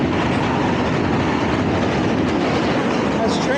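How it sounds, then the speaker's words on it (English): A train rumbles loudly and continuously across the Manhattan Bridge in New York City, a dense roar of wheels and rattling with a faint squeal near the end. "has trains going over it every couple minutes. So it's really loud."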